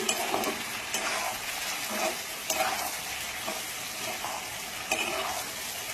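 Capsicum for chilli chicken is stirred and fried in a pan, with a loud continuous sizzle broken by repeated scraping stirs every second or so.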